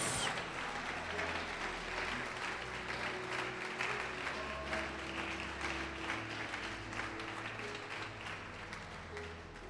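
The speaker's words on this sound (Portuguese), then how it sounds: "Pode aplaudir o Senhor e glorificar a Deus." A church congregation applauds during a sermon, a steady, sustained clatter of many hands that sounds somewhat distant and soft, with no voices standing out.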